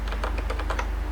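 Quick, even keystrokes on a computer keyboard while Rust compiler code is typed, a close run of light clicks at a steady rhythm with nothing else heard.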